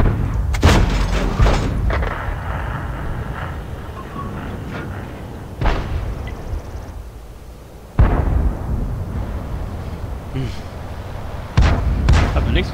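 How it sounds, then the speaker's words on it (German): Tank cannons boom in an online tank battle video game, four heavy shots spaced several seconds apart over steady engine rumble, with someone talking between them. "Schöner Schuss."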